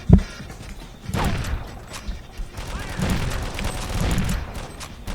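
Rifle fire in the shooter game Boiling Point, with upgraded rate of fire and reload speed: a sharp shot opens, then bursts of rapid gunfire at close range, with faint mechanical clatter between them.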